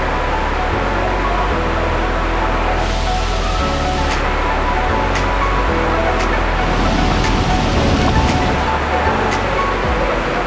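Rainbow Falls waterfall in Colorado, a steady broadband rush of falling water near a colorful bridge and red sand creek, loud and continuous throughout with faint intermittent clicks over the roar.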